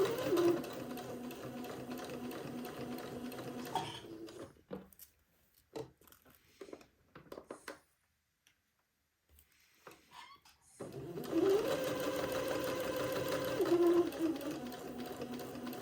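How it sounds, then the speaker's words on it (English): Sewing machine running a straight stitch to attach a baby bonnet brim to its puffed crown beside an entredeux ladder: a steady close whirring hum, stopping midway for several seconds of faint handling, then resuming just as steadily. "So using a straight stitch, I'm going to sew to the right of the entredeux ladder and attach the brim to the poof."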